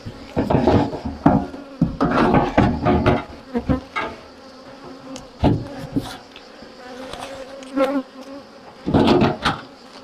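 Black honeybees buzz close at the hive in uneven bursts and swells, with sharp knocks and taps mixed in and fainter humming between louder passes, no voices.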